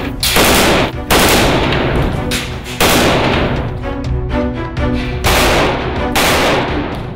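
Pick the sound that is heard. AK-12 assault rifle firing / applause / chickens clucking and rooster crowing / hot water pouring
AK-12 assault rifle firing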